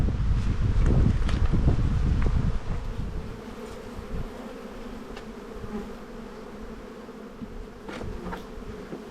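Honey bees buzz at an open hive during a spring brood inspection, a dense, steady drone of many insects that is loudest in the first few seconds and then settles into a softer continuous hum, with light wind noise and occasional rustling.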